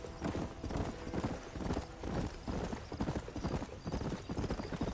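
Horse hooves clip-clopping at an even, steady rhythm in the Western video game Red Dead Redemption, close and clear throughout with no speech.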